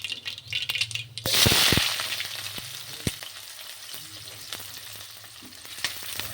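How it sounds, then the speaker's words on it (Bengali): Chopped onions hit hot oil spiced with mustard seeds, bursting into a loud hiss near the start, then settling into a steady close sizzle with scattered pops and the light scrape of stirring. "পেঁয়াজগুলোকে হালকা ভেজে নিতে হবে"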